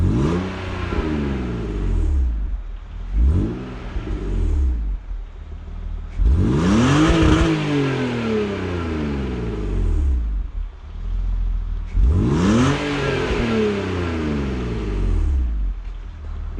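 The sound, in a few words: BMW E46 328i engine revving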